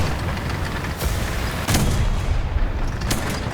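Tank gunfire and shell hits from the video game War Thunder, with the Crusader III, come as a dense, loud barrage of booms and cracks over constant rumbling battle noise.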